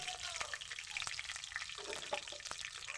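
Dried red chillies, bay leaves and cumin seeds fry in hot oil in a wok, a steady fine crackling sizzle with small pops and occasional stirring clicks, close and fairly quiet.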